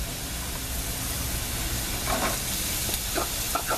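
Onions go into a pan of frying potatoes with extra grease, giving a steady close sizzle with bursts of crackle and stirring scrapes throughout.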